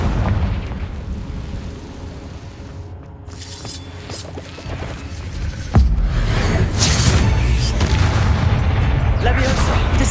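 Loud, dense blasts and crashing booms from the Confringo spell fill Hogwarts Legacy combat, a continuous heavy barrage that swells louder midway, with battle noise layered throughout.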